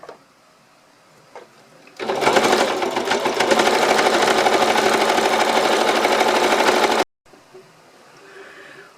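A battery-powered sewing machine stitching a mini quilt runs loud and close in one steady, rapid mechanical whir for about five seconds, starting and stopping abruptly, with quiet room sound on either side.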